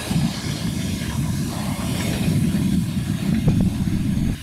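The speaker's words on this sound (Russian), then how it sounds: "Поезд! Там" A train passes at 4 a.m., a steady, loud low rumble with a broad roar that holds throughout, without voices.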